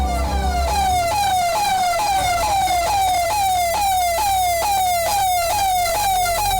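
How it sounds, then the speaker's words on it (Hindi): A forest department Gajraj vehicle's siren wails through village lanes at night, loud and close, in a fast repeating falling sweep that holds steady for several seconds, with low engine rumble beneath. "वन विभाग का गजराज वाहन सायरन की आवाज देते हुए गांव की गलियों में घूमता नजर आया।"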